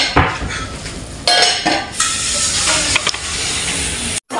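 Dried fish (tuyo) cooks in a pan with a little sugar and vinegar, giving a loud, steady steamy hiss and sizzle, with metal utensils clinking and scraping against the pan throughout.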